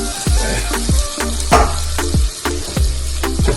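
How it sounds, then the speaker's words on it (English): Tofu frying in a pot of oil, a close sizzle punctuated by repeated sharp knocks and thuds, probably pieces being dropped or moved about, with no voices. "I'm gonna fry my tofu in this pot."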